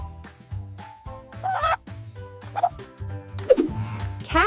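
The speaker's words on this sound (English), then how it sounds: "Cock. This is a cock." A rooster crows in a short burst near the end, with rising and falling calls layered over light background music.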